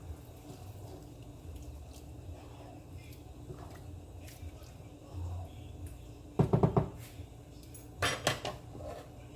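Carrot coconut rice is mixed in a pot, Jamaican style, with soft stirring over a low background and two short bursts of spoon clanks and scrapes against the pot.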